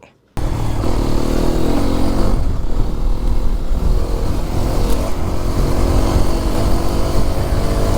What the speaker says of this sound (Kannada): ಈ ಥರ ಆಫ್ ರೋಡಿಂಗ್ ಹೊಡಿಯೋಕ್ಕೆ ಸಖತ್ ಮಜಾ ಸಿಗುತ್ತೆ